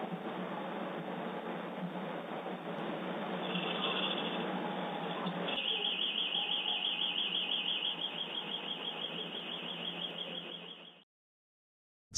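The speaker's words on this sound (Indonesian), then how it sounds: "beberapa detik kemudian, alarm berbunyi tanpa alasan yang jelas" A home alarm sounds outside a house at a front door, a continuous electronic wail that shifts into a fast warbling tone midway before cutting off abruptly.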